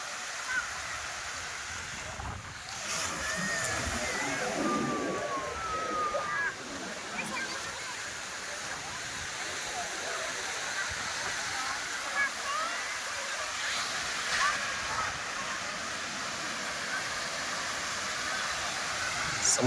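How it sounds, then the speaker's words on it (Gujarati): Arabian Sea waves wash onto the beach at Somnath in a steady, broad roar of surf with soft swells and a few faint bird calls, continuous and fairly distant. "ઘોંઘાટ સાથે મોજા આવે છે"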